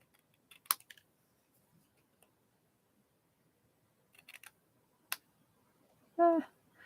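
Scissors trimming the edge of a handmade card give a few sharp, quiet snips and clicks spaced apart in a quiet room, with a brief soft voice near the end.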